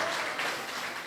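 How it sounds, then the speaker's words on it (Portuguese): Church congregation applauding together during a worship service, a dense, steady wash of clapping that fills the short moment at close range without pause. "Podemos aplaudir o Senhor"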